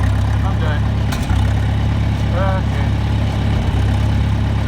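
A real farm tractor with a temporary steering repair idles nearby in a low, steady rumble while someone speaks briefly over it and a few faint bird chirps come through.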